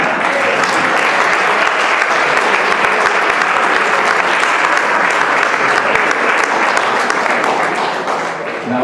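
Sustained, loud audience applause fills the room at a community gala event, a dense steady wash of many hands clapping for several seconds before easing slightly at the end.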